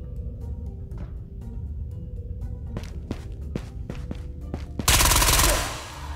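Gunfire in the video game Ghost of Tabor rings out as a scatter of sharp single shots, followed by a short, loud burst of rapid fire near the end.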